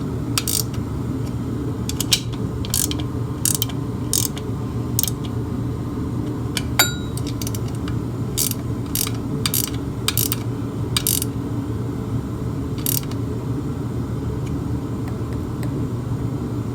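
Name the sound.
ratchet snugging bolts on Farmall A engine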